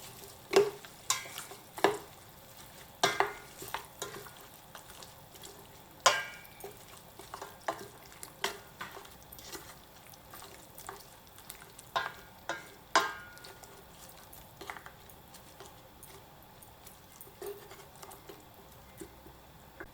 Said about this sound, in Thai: จากนั้นก็คนให้เข้ากันนะคะ